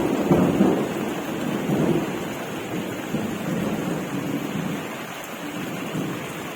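Steady heavy rain pours down in a continuous wash while low rumbles of thunder roll beneath it, swelling and fading across the whole stretch; no one speaks.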